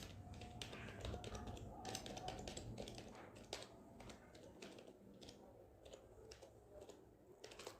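Fast typing on a computer keyboard while Python code is written. Dense, irregular key clicks come in bursts, close but faint, with no talking over them.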